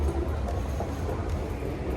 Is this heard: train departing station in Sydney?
yes